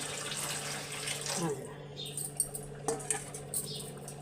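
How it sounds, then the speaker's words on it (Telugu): A short splash of water goes into a simmering Nellore fish curry, the pour fading after about a second and a half, followed by a few light clinks and taps of kitchenware. "కొద్దిగా వాటర్ యాడ్ చేసుకుందామండి పులుసులోని."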